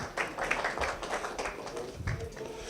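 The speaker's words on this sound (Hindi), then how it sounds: "एक बार फिर तालियां जी।" Audience applause at an anniversary celebration in a Manchester studio, a soft, fairly distant patter of clapping hands continuing steadily for a few seconds.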